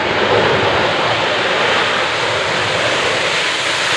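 Rolls-Royce engines of an Airbus A380 on a demonstration flight at the 2014 Farnborough Air Show give a loud, steady, close jet roar that fills the whole clip without a break.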